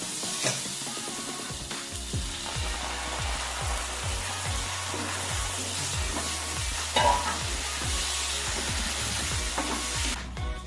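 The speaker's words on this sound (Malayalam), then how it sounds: "ഇതിനകത്തേക്ക് നമുക്ക് അല്പം തേങ്ങാപ്പാൽ ചേർത്ത് കൊടുക്കാം" Coconut milk goes into sautéed onion and tomato in a pan, giving a continuous close sizzle and bubbling with repeated soft stirring strokes throughout, steady in level and with no voices.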